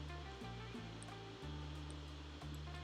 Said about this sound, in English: the instrument that I'm using right now is called a heat gun